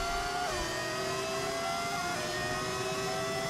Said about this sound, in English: I'm using a mod that gives it a V10 engine. And yeah, it sounds amazing.